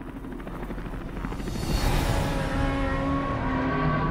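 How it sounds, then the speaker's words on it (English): Helicopter in the video game Metal Gear Solid 5: The Phantom Pain, a throbbing rotor and engine roar that swells louder as it draws near and then holds steady. "The helicopter."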